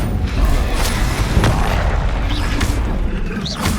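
Incendio fire spell cast in the Hogwarts Legacy video game, a continuous loud roaring burst of fire and booming magical impacts layered with game effects, dense and close throughout.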